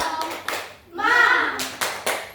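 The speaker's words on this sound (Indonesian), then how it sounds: "Kita mulai tepuk tangan dulu" Several quick bursts of hand clapping close by, sharp and bright, with a short pause midway before the claps resume.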